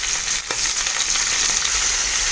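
Beef liver laid into a pan of hot oil for garlic-and-lemon sautéed liver, giving a dense, continuous close sizzle with faint spitting crackles, loud and unbroken, no voices.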